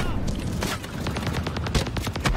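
Rapid gunfire from the Call of Duty video game rattles in a dense burst of shots, loud and continuous throughout the short stretch.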